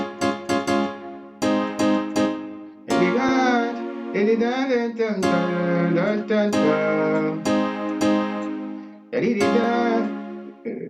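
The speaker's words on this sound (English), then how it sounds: "Alright, so I found the chord I'm looking for." Synthesized chords in FL Studio 21 ring out, some short stabs and some held with a wavering pitch, loud and clear with no talking.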